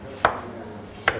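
Two crisp knife chops on celery cut into big pieces, spaced about a second apart, close and distinct over a quiet room background.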